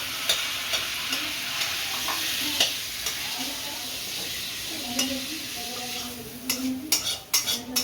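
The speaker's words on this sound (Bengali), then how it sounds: "চিংড়ি মাছটা ভাজা হয়ে গেছে" Shrimp frying in oil in a wok, with a steady loud sizzle and hiss running throughout and repeated clinks and scrapes from a stirring utensil, which grow sharper near the end.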